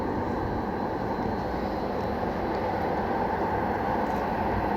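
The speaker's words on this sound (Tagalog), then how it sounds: "Dito na yung train. Punta na ngayon." Near a mountain-view station in Canada, an arriving train gives off a steady, dense rumble and roar with no breaks, fairly loud and broad, with no voices over it.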